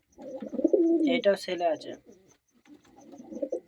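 Domestic pigeons coo softly nearby in short bursts, while someone speaks over them.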